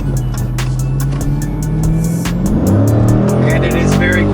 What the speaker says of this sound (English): You always know that you've got a big rumbling V8 under the hood in this